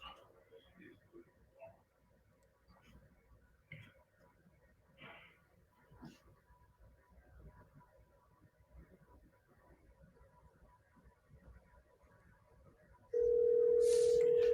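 A telephone line rings out during a cold call about wholesale houses. Faint, low background murmur gives way near the end to a loud, steady electronic tone lasting over a second.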